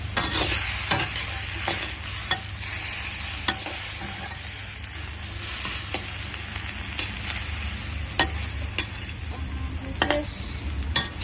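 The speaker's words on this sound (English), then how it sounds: "And just stir it." Pork and green chili stir-fried in a pan with oyster sauce and a little sugar, a steady sizzle with scattered sharp scrapes and clinks of a utensil stirring against the pan, close and continuous.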